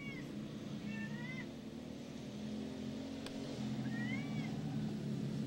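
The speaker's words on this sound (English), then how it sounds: "You can hear the cat." A cat meows a few times over a steady, loud go-kart engine rumble at a kart race, the cries high and wavering, partly buried under the drone.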